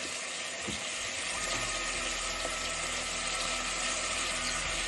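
Brinjal (eggplant) frying in a pan, a dense, steady sizzle that runs loud and unbroken from start to finish with no voices.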